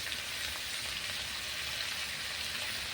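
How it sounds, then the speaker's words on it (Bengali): Spices including chilli powder and turmeric fry in a hot pan, a steady, soft, continuous sizzle with no voices. "সমস্ত মশলা দিয়ে খুব ভালো করে ভেজে নেব।"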